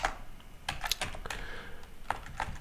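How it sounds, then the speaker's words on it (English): Quick, light clicking on a computer keyboard while typing a terminal command, a soft irregular patter of keystrokes with no voices. "If I can type"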